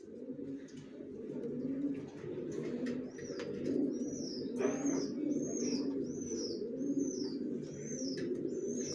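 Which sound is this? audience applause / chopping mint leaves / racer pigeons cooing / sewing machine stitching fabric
racer pigeons cooing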